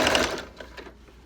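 A sewing machine stitches crib sheet fabric in a short, quick mechanical whir that is loudest at first and then tapers into lighter rattles, heard alone and close.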